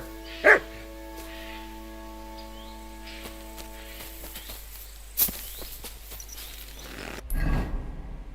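Mutt, a dog in the video game Kingdom Come Deliverance II, gives one short, sharp bark near the start. Steady in-game ambience and tones carry on underneath, with a soft click and a brief rustle later.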